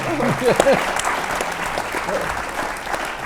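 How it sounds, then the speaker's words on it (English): A brief smattering of audience applause at an evening event honoring a former president, a light scatter of claps that swells briefly and fades, with a voice speaking over it. "Now that I've had a smattering of applause praising Mark"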